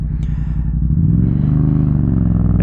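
A Yamaha MT-07 motorcycle with an R6 throttle tube rides along a road, its engine note droning close and loud, rising in pitch as it pulls steadily with no talk over it.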